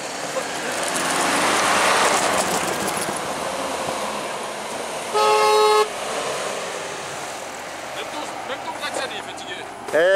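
A 4x4 off-road vehicle on a snowy raid in Transylvania sounds its horn in one short, clear honk midway, with engine rumble and outdoor noise around it.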